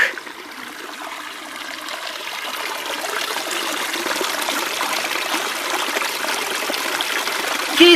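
Water trickles and streams in a steady, even wash that holds close and constant from start to finish, with no voices over it.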